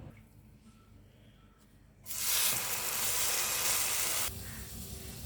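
Butter-soaked slices of batter-dipped bread for Goan French toast hit a hot pan, setting off a loud, steady sizzle that swells after a quiet start and then eases slightly toward the end.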